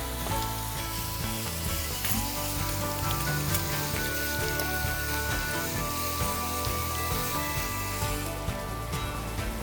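Garlic paste hitting a hot frying pan, a sustained, even sizzle that carries through the whole stretch over a steady tonal background, close and fairly loud.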